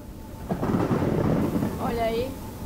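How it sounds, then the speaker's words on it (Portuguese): Thunder rumbles loud and close during a lightning storm in the horror video game Among the Sleep, a broad swelling roar with rain-like hiss and a brief tonal sweep near the end. "Deu um relâmpago por ali."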